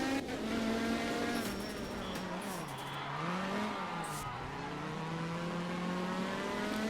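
A rally car in the Art of Rally video game revs steadily with rising and falling engine pitch through hairpin turns, with tire noise underneath; the engine is continuous and prominent.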